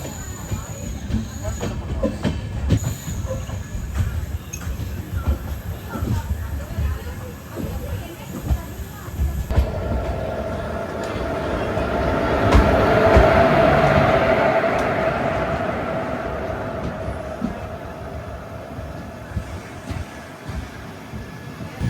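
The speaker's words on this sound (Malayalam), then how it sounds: "രാജറാണിയുടെ റേക്ക് വെച്ച് ഓടുന്ന നമ്മുടെ തിരുവനന്തപുരം നോർത്ത് നാഗർകോവിൽ പാസഞ്ചറാണ്" Thiruvananthapuram North–Nagercoil LHB passenger train, running with a Rajarani rake, rumbles and clatters past at a station, growing louder toward the middle and then fading, with faint voices nearby.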